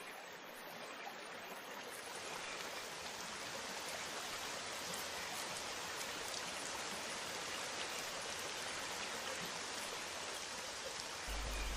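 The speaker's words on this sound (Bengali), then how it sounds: "আরে এই তো বৃষ্টি চলে এসেছে" Rain pours in an animated cartoon, a steady, even wash of falling water that fills the whole stretch at a soft, constant level without voices.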